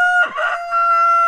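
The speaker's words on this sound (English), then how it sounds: "we've got three hens and one rooster in here in the Wyandotte pen" A Wyandotte rooster crows once in a chicken pen, a short loud call close by, with a steady tonal hum running underneath.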